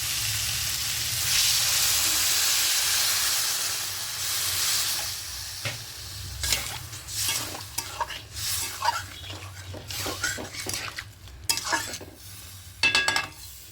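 Small fish for a spicy mustard-paste curry with potato, onion and tomato fries in a pan, first a steady loud sizzle and hiss, then brisk repeated scraping and knocking stirs as everything is mixed, close and without speech.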